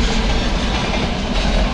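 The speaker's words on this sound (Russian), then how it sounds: "сейчас поезд проедет" A train rolls past close by in Buryatia, a loud, continuous rumble with rattling wheels, heard alone for its whole length.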